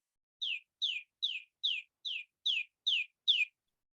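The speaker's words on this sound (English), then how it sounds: "I thought I heard a little bird in the background." A small chick gives eight high, thin, downward peeps at a steady, even pace, each short and clear against silence.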